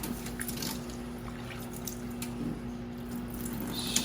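A parts washer pumps cleaning fluid, giving a steady close trickle and splash of liquid over a constant low hum, with no voices.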